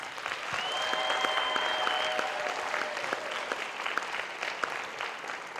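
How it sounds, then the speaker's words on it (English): A live audience at a K-State dance competition show applauds its contestants with steady, full clapping throughout, while a faint sustained tone runs underneath for part of the time. "Can we give all our contestants another round of applause?"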